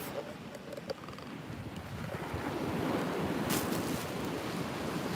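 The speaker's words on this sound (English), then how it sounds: "there's the big, beautiful Gulf of Mexico behind me" Surf of the Gulf of Mexico rolling onto a beach with wind buffeting the microphone, the wash building louder toward the end; no clear talk.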